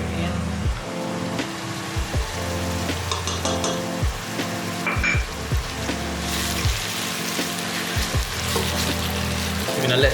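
Chili and olives sizzling in a pan as a lasagna sauce cooks, a steady close frying hiss broken by repeated stirring knocks and scrapes of a utensil against the pan.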